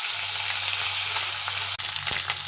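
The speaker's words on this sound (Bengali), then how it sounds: "এখন ওই একই চিংড়ি মাছ ভাজার তেলে পেঁয়াজ, তেজপাত হালকা একটু ব্রাউন হওয়ার পর এর মধ্যে আদা রসুন বাটাটা দিয়ে দেব" Onion and bay leaf frying in leftover prawn-frying oil, a loud continuous close sizzle with a brief dip and a few stirring scrapes near the end, no talking.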